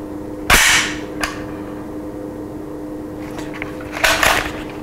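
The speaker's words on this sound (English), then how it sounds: "if you want to release the bolt," CZ Bren 2S pistol bolt being released: a loud metallic clack as the bolt slams home, followed by a lighter click and later a cluster of softer mechanical rattles and a final snap, close up with no talking.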